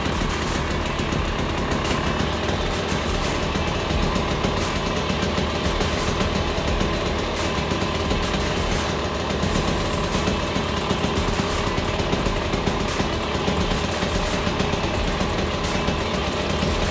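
A KTM XC-W dirt bike engine idles steadily and fairly close, a continuous buzzing rattle with no one talking over it.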